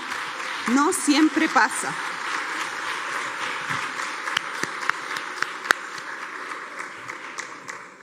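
An audience at a round-table on sexual and reproductive rights and disability applauds steadily for several seconds, while someone speaks in Spanish over the start of the clapping.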